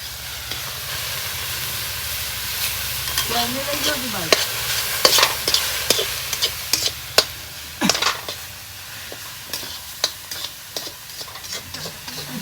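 Bottle gourd roasting in a pan with milk, a soft steady sizzle and simmer with irregular scraping and clinks of a stirring spoon against the pan, fairly close and without talk.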